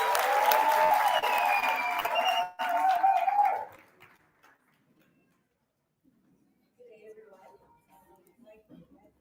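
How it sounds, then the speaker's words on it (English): Audience clapping at a business workshop in Soweto, a burst of applause lasting about four seconds that cuts off sharply, followed by near silence and faint voices. "Please give her a round of applause."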